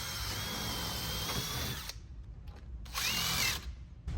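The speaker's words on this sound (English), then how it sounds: "I'm gonna drill a hole the same way." Power drill boring a hole through pontoon boat deck trim (rub rail) during installation, a steady close whine for about two seconds, then short stop-start bursts of drilling with pauses between.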